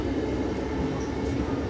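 Steady, dense rumble of an Amtrak passenger train rolling along the rails, heard from inside a car as a continuous low drone with no distinct clacks.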